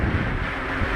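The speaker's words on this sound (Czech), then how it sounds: "Vlastně jde ten větr, jo?" A brief, steady gust of wind rumbles outdoors near a DJI S800 drone. It is loud and broadband, close to the microphone, with no voices.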